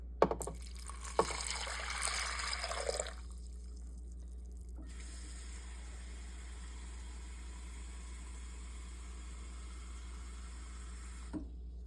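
Water pours into a crockpot of beans for about three seconds, a soft splashing rush with a couple of clunks, then quiet with a steady low hum in the background.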